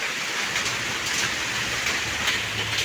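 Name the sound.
hailstorm, small hailstones falling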